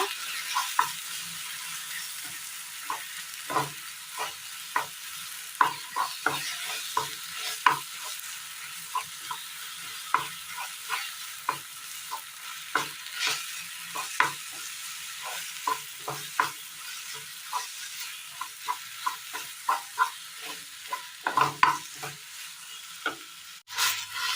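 A cooking banana mixture is stirred in a pan for a Kerala snack, with repeated scraping strokes and a soft sizzle in an even rhythm throughout, close up and with no voices.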